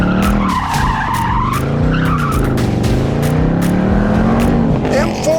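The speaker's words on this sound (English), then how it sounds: "M4's got so much power, I can drift it on command." A BMW M4, rear-drive, drifts sideways, its engine roaring loud and close while tires skid and squeal continuously, the engine note rising and falling through the slide.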